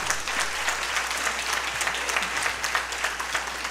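A church congregation applauds during a sermon, a continuous crowd of hands clapping at an even level across the whole stretch, with no voices above it.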